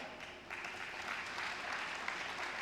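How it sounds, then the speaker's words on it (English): At a graduation ceremony, distant applause rises into a steady, soft wash of clapping from the gathered crowd, with no speech over it. "while we give them a round of applause"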